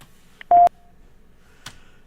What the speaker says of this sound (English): It go beep and then it starts to ring.